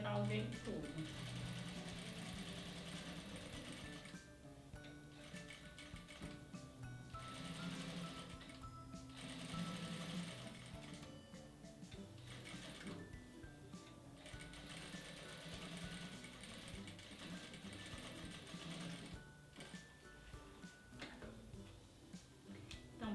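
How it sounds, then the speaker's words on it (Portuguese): A sewing machine runs steadily, stitching a safety seam along the side of fabric for a phone accessory holder, its rapid ticking whir continuous and close, with brief pauses while someone talks over it. "vou passar uma costurinha de segurança na lateral dele todo"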